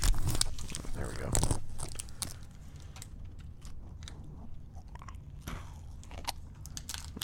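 Crunchy chewing and biting of a Twix egg, a chocolate egg with a cookie base, in close, wet mouthfuls with a few crisp crunches, mixed with a person talking.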